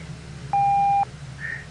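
One steady half-second electronic beep sounds over a low hum, marking an answering machine message in a video game, followed by a faint, softer tone.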